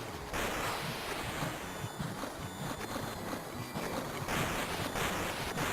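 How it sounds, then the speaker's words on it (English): Water flooding a boss arena in the video game Demon's Crest, a dense continuous rushing wash like heavy surf, loud and steady throughout without speech. "he decides to fill the freaking place with water"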